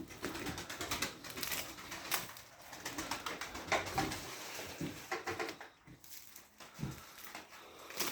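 Soft pigeon cooing repeats over a rustling background, with occasional wing flutters and faint movement nearby.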